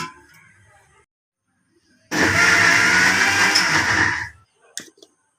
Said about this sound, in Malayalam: എന്നിട്ട് നമുക്കിത് മിക്സിയുടെ ജാറിൽ വെള്ളം ഒഴിച്ചിട്ട് ഒരുപാട് അരഞ്ഞു പോകണ്ട, ഒന്ന് ഒതുക്കിയെടുക്കുന്ന രീതിയിൽ എടുക്കുക.